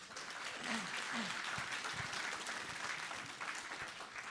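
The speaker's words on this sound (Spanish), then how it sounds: "fuertes aplausos" Church congregation applauding at a Sunday service, a steady wash of clapping from many hands throughout, with a few low vocal sounds mixed in near the start.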